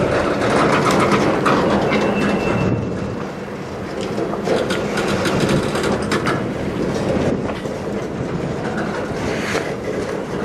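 A CN night train rolls slowly into the Sarnia tunnel in Ontario, a steady heavy rumble with rhythmic clickety-clack of railcar wheels and some metallic ratcheting, close and loud throughout.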